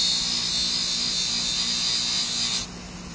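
A spinning buffer wheel hisses steadily as a flex knife blade is pressed lightly against it to strip the burr, a continuous bright whirring rub that stops abruptly near the end.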